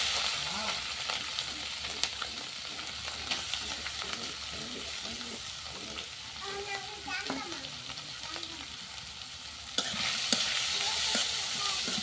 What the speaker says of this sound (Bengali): এই তো চান্দা মাছ হচ্ছে সরিষার তেল দিয়ে ভাজা করব